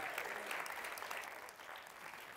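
Studio audience at a Quebec talk show applauds in a steady, faint wash of clapping that lasts throughout.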